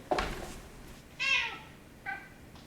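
A cat gives three meows, a short first one, a longer drawn-out call and a shorter final one, close and clear in a quiet room with no talking.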